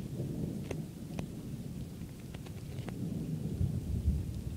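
Thunder rumbles low and distant through a storm over a flooded front yard, with rain hissing steadily and a few sharp crackles breaking through, no voices.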